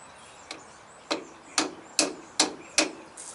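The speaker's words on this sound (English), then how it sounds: "I'm just going to carefully use my old bushing as a seal driver." Sharp taps of an old bushing used as a driver to seat a seal, roughly six distinct knocks at uneven intervals, close and fairly loud in a quiet shop, during an S cam replacement on a three-axle semi trailer.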